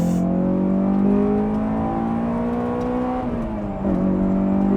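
A Honda S2000's engine revs hard through twisty roads, a loud, steady high-pitched wail that dips briefly near the end as the revs drop and then climbs again, heard from inside the car.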